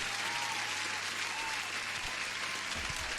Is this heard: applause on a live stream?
yes